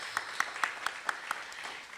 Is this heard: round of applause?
yes